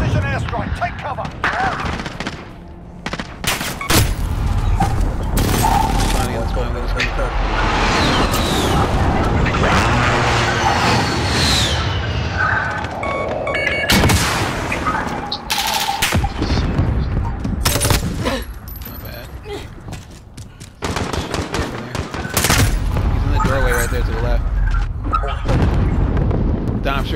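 Airstrike explosions and bursts of gunfire in Call of Duty: Modern Warfare, loud dense volleys and heavy blasts broken by brief lulls, with players talking over the fighting.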